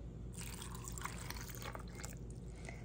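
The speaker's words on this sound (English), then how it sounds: "And I'm going to just add water to it." Water pours from a vessel over a sliced apple with cinnamon sticks, whole cloves and vanilla, a soft continuous trickling splash lasting a few seconds, close and fairly quiet, with no talking.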